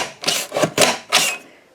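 Small mini paper trimmer slicing off the end of a card piece, several short rasping scrapes in quick succession, close and dry with no talk.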